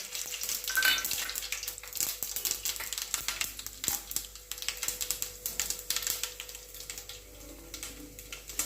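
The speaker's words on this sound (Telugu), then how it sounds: "తర్వాత పోపు దినుసులను అందులో వేసుకోవాలి." Tempering spices crackle and sizzle in hot oil in a pan for semolina upma, with dense, close popping and spattering that holds steady throughout and has no talk over it.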